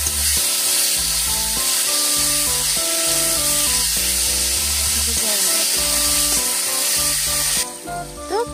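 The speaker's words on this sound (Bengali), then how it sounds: "তরকারিটা মিশিয়ে দিল।" Fish curry being stirred and mixed in a pan, a steady loud sizzle and hiss running throughout, with layered tonal sounds over it and no speech.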